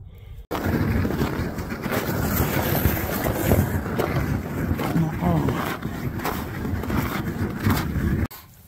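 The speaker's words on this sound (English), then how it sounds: "It's windy as a motherfucker." Strong outdoor wind buffets the microphone in a steady, roaring rush with gusty swells, loud and continuous for most of the stretch, cutting off abruptly near the end.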